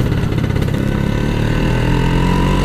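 A Vespa scooter engine runs close by, giving a loud, throbbing low rumble with a steady pulsing rhythm throughout.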